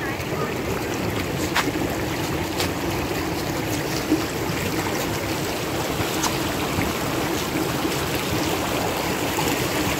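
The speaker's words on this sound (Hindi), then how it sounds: "साफ पानी का चश्मा है ये" A clear freshwater spring flows through a grassy meadow in Bamboret Valley, a steady, close rush and babble of water that continues evenly throughout.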